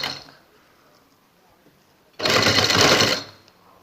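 Sewing machine stitching piping along the edge of a fabric neckline, a single loud burst of rapid mechanical stitching lasting about a second after a quiet pause.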